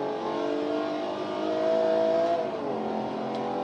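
Nissan 370Z engine in the racing game Forza 5, a steady loud synthetic engine drone with rising and falling harmonics as it revs under throttle, alone without talk.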